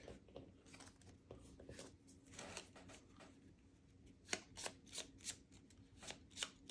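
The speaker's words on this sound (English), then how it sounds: "He's gonna shuffle his deck." A deck of cards shuffled at a tabletop board game, quiet close riffles and soft slaps in several bursts, with a sharper run of quick shuffling sounds toward the end.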